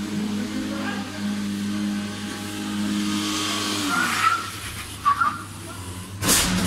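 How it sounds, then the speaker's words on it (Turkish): A car revs hard at a petrol station in Ankara, its engine droning and rising as tires squeal, followed by a few sharp bangs and a loud crash at the end, with voices faint underneath. "Ay, bizim arabaya vurdu be."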